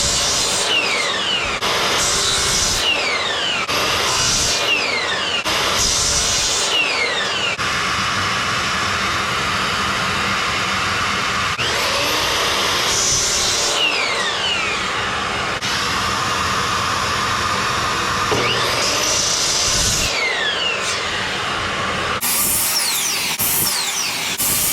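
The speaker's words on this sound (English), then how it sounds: "So I have to cut off both ends and then straight down the middle again." A power saw cuts the ends off wooden boards, a loud continuous whine with repeated cuts that rise and fall as blades bite through the wood, close and sustained for the whole stretch.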